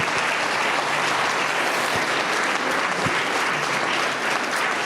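A church congregation applauds in a sustained, dense burst of clapping that holds steady and fairly loud throughout, filling the hall without any voices rising above it.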